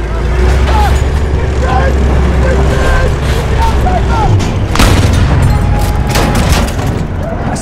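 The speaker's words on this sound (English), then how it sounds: "It's an enemy machine gun!" Enemy machine gun fire in the video game Battlefield 1, loud bursts and booms over rumbling engine noise, with voices calling out over the fighting.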